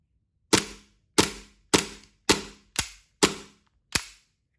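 A WE M9A1 gas airsoft pistol dry-fires without BBs: seven sharp, evenly spaced cracks with brief tails, fired at a steady semi-auto pace about every half second, close and loud with no talking.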